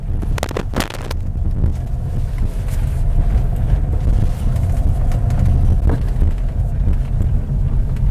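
A Toyota Yaris Cross GR Hybrid is driven quickly along a winding road, a steady low road and engine rumble with wind noise heard from inside the cabin, a few clicks near the start.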